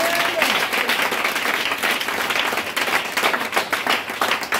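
A church congregation applauds to acclaim the Lord, steady dense clapping filling the room throughout, with voices mixed in beneath the applause.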